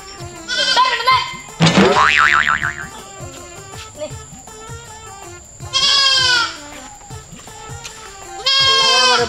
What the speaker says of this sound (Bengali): এটা আমার শখের ছাগল